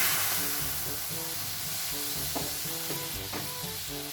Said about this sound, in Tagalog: Uy, gigisa yung sibuyas.